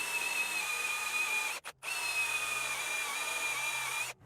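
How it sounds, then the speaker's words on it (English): A power drill with a dull bit bores through a wooden bass guitar body, giving a steady high whine that stops briefly twice and then resumes, loud and close, with no talking. "this drill bit's getting dull. So it may be a little bit of a challenge to drill through this"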